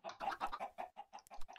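Minecraft chickens clucking in a quick string of short, close calls that fill the moment with no talk over them.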